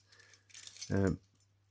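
A bunch of keys on a keyring with a small carabiner jangles close up in one brief metallic shake, ending in a bright clink.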